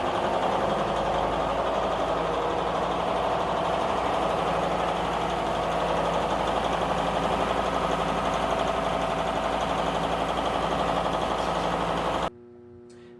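A ship's engine kept in running condition drones steadily in an enclosed engine room, a loud, even mechanical hum with rhythmic vibration that cuts off abruptly near the end.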